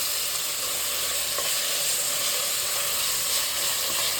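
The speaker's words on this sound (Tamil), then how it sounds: "இந்த தக்காளியை இஞ்சி பூண்டு பேஸ்ட்டு பச்சை வாசனை போகிற வரைக்கும் வதக்கணும்" Tomato with ginger garlic paste and green chillies sautés in a pan for mushroom biryani, a loud continuous sizzle and hiss with faint stirring scrapes throughout.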